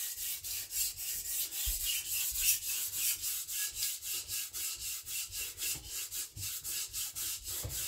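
A knife edge drawn repeatedly across a fine whetstone for a micro bevel, making a close, steady series of short scraping strokes in an even back-and-forth rhythm, with no voices.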